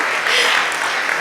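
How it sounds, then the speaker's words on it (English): A short burst of audience applause at a tech conference after lunch, many hands clapping at once and fairly close, swelling briefly and then steady. "Can I get a clap for good lunch?"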